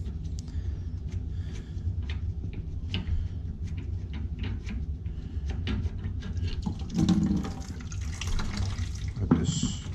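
Water draining out of a plugged steam return line from an overfilled boiler, a steady close trickle and splash with a few louder gurgling surges near the end.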